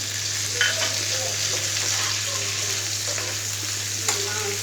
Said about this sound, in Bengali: দিয়ে আরও কিছুক্ষণ ভেজে নেব